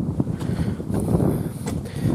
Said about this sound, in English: Anyway, sorry for the wind.